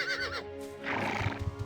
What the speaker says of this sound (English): What is with this horse? It's psychotic.